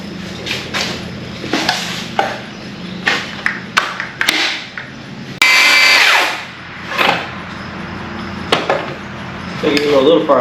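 A power saw cuts wooden rafters for a porch extension in short bursts: brief whines and sharp cuts separated by pauses, with one longer loud cut midway and knocks and handling noises between.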